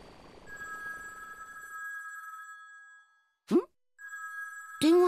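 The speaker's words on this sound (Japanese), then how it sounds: "電話だ。" A telephone rings in the Dragon Ball Z Kakarot video game: a steady electronic ring lasting about three seconds, then a brief chirp and a second burst of ringing with game interface sounds, with no speech.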